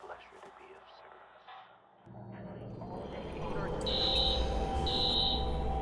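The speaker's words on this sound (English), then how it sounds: "Alarm's been tripped. Search the area." Security alarm going off in the video game Watch Dogs, a high repeating electronic tone rising over rumbling ambient noise and faint game sounds.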